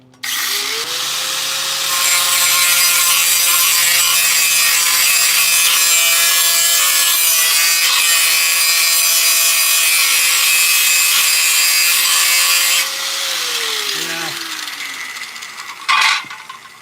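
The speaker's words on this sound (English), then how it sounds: "yes, this is a cutoff wheel" A cutoff wheel grinds metal up close in one long, loud, continuous whine that spins up, holds steady for about ten seconds, then winds down, followed by a brief clatter.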